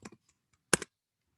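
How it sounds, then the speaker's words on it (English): Typing on a computer keyboard, a few quick key clicks at the start and then a short, sharp burst of presses, close and crisp against silence. "You could either ask for another recommendation by typing the word recommend."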